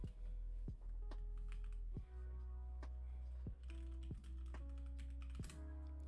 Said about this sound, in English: I fucking suck at typing.